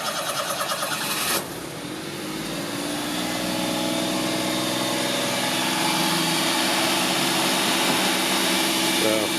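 A 1988 Daihatsu Hijet 4WD kei truck starts on a cold morning: a brief cranking chatter catches into a steady, fairly high idle that hums close by and evenly, with a voice talking faintly over it.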